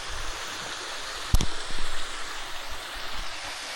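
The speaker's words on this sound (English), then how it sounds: "I came across this little babbling brook." A small babbling brook on a walk between Fort Augustus and Invermoriston flows with a steady broadband rush, close by, with one brief sharp knock partway through.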